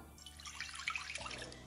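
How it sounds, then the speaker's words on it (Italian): Water poured into a mixing bowl while making Genoese frisceu batter, a close splashing trickle with drip-like spatters lasting under two seconds, heard alone without talk. "nella ciotola metto l'acqua"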